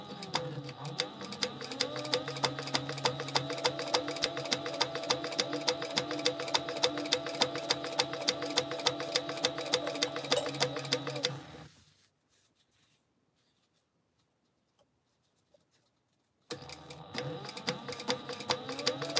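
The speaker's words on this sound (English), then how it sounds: "we're going to back stitch the beginning of them, but we're going to start at our little mark and end at our little mark that we made" Sewing machine back stitching a quilt block, a fast steady mechanical rattle that runs for about twelve seconds, stops into near silence, then starts up again, close and clear with no talking.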